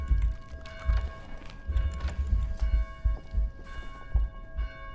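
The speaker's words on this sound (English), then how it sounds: "Is that the bell?" A church bell in the video game Dead Island rings amid a busy, noisy game mix of thumping footsteps and mechanical clatter, its tone steady and moderately loud with no voices over it.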